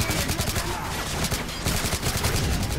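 Dense, continuous suppressive gunfire roars through a Call of Duty: Modern Warfare 3 battle, with rapid overlapping automatic bursts forming a loud, unbroken wall of shots.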